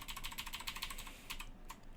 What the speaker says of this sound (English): You simply use the S key on your keyboard.